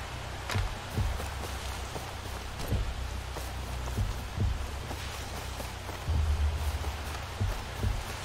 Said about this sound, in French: Oh, la pluie arrive.